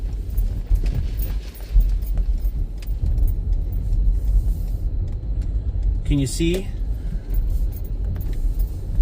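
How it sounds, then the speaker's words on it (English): A car rolls slowly around a convenience store toward the car wash entrance at an ARCO station on Bundy Canyon Rd, its engine a steady low rumble beneath occasional talk. "Just going to pull around the convenience store to get to the car wash entrance."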